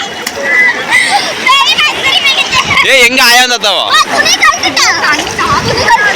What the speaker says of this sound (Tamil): நாங்களாம் வந்து தண்ணி ஊத்திட்டு இருக்கிறோம்